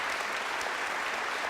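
A studio audience at a televised political debate applauds in a steady, dense burst of clapping that fills the whole moment, moderately loud with no distinct voices.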